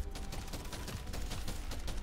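Shotgun blasts in Deep Rock Galactic: Survivor come as fast, repeated bursts of gunfire in a dense, steady stream, fairly quiet in the mix.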